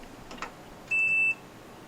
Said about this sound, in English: it beeps briefly because, you know, diode, all the electronics in there